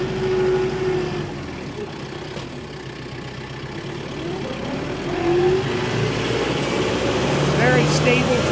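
A 2022 Kubota M7060D tractor with a hydraulic shuttle transmission and high lift loader runs steadily, its engine droning continuously throughout with slight shifts in pitch.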